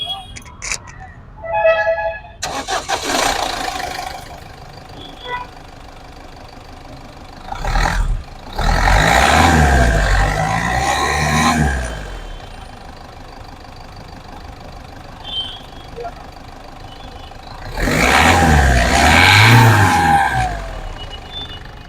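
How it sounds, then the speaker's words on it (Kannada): A 2011 Ford Figo Titanium diesel engine cranks and catches, then settles into a steady rumbling idle with a rise in revs. Loud bursts come and go between quieter stretches, and someone talks over parts of it. "ಇಂಜಿನ್ನು ಸ್ಟಾರ್ಟ್ ಮಾಡಿ ತೋರಿಸಿದ್ದೀನಿ"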